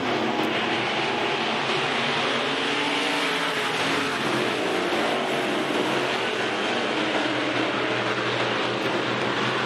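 Race cars start a heat at a raceway, a dense, continuous roar of multiple engines at full throttle, loud and sustained without a break.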